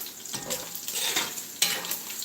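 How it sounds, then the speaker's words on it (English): Bacon crisping in a frying pan, a steady close sizzle with stirring and scraping and a sharp utensil knock against the pan near the end. "right now I'm crisping up my bacon a little bit, which is going pretty quick"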